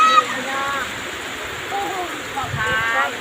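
Water rushes and gurgles steadily as it flows into a rice field, while a person talks over the flow.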